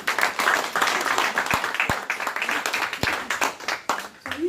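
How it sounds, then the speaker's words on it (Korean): A lecture audience breaks into dense, lively clapping that runs without a break for a few seconds, with scattered sharper individual claps standing out. "박수 안 쳐줍니까?"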